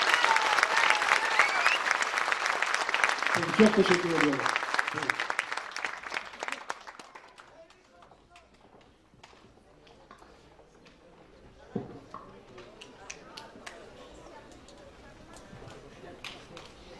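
Audience applause fills the hall at the Eskişehir Karaçay-Balkar Association's 26th anniversary event in 2019. It is loud and dense, then thins into scattered claps over several seconds. Someone briefly speaks as it begins to fade.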